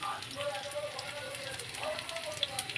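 Potatoes frying in oil in a pan on a gas stove turned up high, giving a steady close crackle and hiss with small sharp pops throughout.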